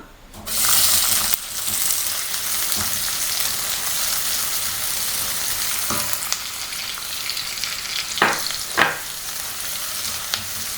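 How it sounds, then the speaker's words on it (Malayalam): Finely sliced shallots fry in hot ghee, a dense continuous sizzle with occasional stirring scrapes and clinks, close and steady throughout. "ഉള്ളി ഒന്ന് നന്നായി മൂത്ത് വരട്ടെ"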